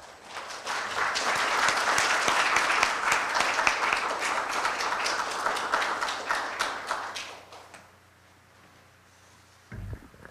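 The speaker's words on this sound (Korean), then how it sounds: "박수로 맞아주시기 바랍니다." Audience in a lecture hall at a Korea University forum applauds to welcome a speaker, with loud sustained clapping that fades out after about eight seconds, followed by a brief thump.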